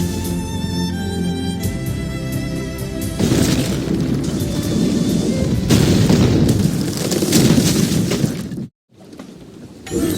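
Naval battle in the video game Assassin's Creed Rogue, with enemy ships firing cannons: loud booms and crashing impacts over dense rumbling battle noise, ending in a brief silence before the din returns.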